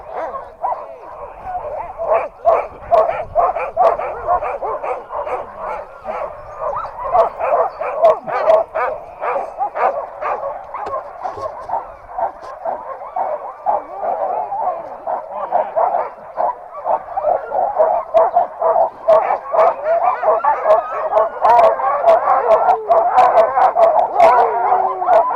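A team of sled dogs in Alaska barks, yips and howls in a loud, continuous, excited chorus close by, rising in intensity toward the end, with occasional human voices underneath.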